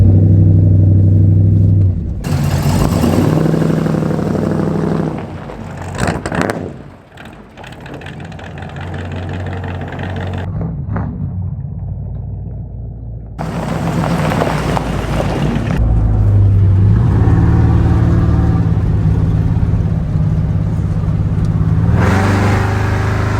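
Small-block Chevy V8 in a Square Body pickup truck out on a test drive: a loud, steady engine drone with rising revs and gear changes, wind rush, and a brief lull midway.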